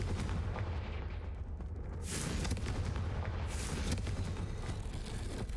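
The Confringo fire spell in Hogwarts Legacy fires, with heavy booming blasts near the middle and a dense, rumbling background from the game.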